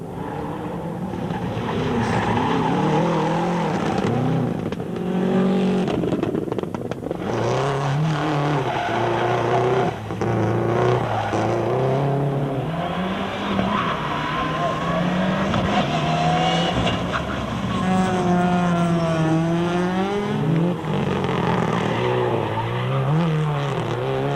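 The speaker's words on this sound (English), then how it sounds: "the Mitsubishi Subaru fight was represented by Paul Pfeiffer in his Evo 6 and Jacques Buerta in his WRX" Mitsubishi Evo 6 and Subaru WRX rally cars racing on gravel, engines revving loud and continuous with rising and falling pitch sweeps and tyre skids, near and unbroken throughout.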